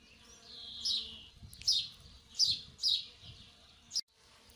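Small birds sing near blooming cornel bushes in spring, giving several bright chirping phrases in quick succession, fairly close and clear over a quiet background.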